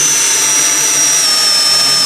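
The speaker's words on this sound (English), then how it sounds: "This is my trusty drill. This is a 1 1/8 inch hole saw." A power drill spins a 1 1/8 inch hole saw through a hydroponics Dutch bucket with a steady, loud high-pitched whine and even motor hum, close and unbroken throughout, with no talking.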